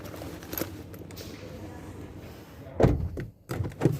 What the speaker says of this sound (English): These doors are quite heavy to close compared to the front.